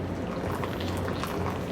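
Hot water is poured over a paper coffee filter in a Chemex 8 cup brewer, a close, continuous splashing trickle with steady loudness throughout and no voices.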